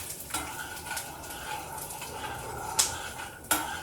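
Peanuts frying in a hot pan while being stirred, with a steady faint sizzle and a couple of sharp scraping clinks of the spoon against the pan.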